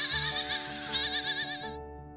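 Goats on a dairy farm bleat loudly and continuously, a wavering, nasal chorus of several animals close by, cutting off abruptly near the end.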